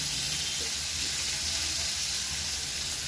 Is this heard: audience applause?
no